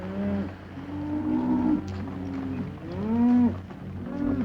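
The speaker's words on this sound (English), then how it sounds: "Keep the cattle moving." Several cattle in a 1956 Lone Ranger film moo in long, drawn-out calls that overlap and rise and fall, with a steady low rumble of the herd beneath.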